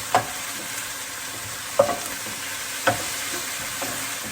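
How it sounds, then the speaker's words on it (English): Thinly sliced beef browning in a pan for Mongolian beef with spring onion, a continuous close sizzle broken by four sharp utensil clacks and stirs against the pan. "we're going to brown the meat, and because it is so thinly sliced, we don't need to cook it for very long"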